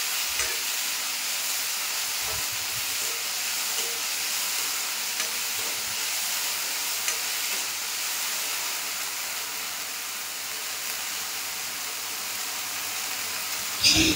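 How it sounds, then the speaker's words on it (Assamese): Steady sizzling and hissing of fiddlehead fern greens frying in a hot pan, continuous and moderately loud, with a few faint stirring knocks. "বিজল ভাৱটো নোযোৱালৈকে ভালকৈ ভাজি ল'ম"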